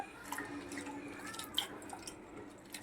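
Dried prawns being washed by hand in water, soft squelching and dripping splashes with small clicks, close and fairly quiet.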